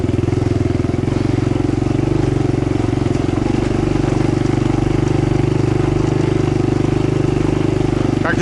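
An all-terrain motorcycle rumbles steadily while riding through a pine forest, a loud continuous engine drone close to the microphone with a slight change in pitch partway through.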